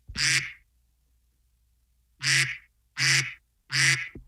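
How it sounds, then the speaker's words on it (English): A duck quacking sound effect played on a radio talk show: one loud, close quack, a pause of nearly two seconds, then three more quacks in a steady rhythm, with no talking over them. "That duck ain't telling us to stop talking about snake bites."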